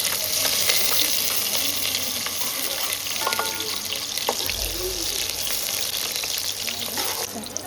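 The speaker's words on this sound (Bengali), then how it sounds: "এই পেঁয়াজটা খানিকটা ভাজা হয়ে গেছে, এটাকে তুলে রেখে দেবো।" Onions sizzle in a pan with a steady close hiss and occasional stirring clinks, while a low voice is heard faintly in the background.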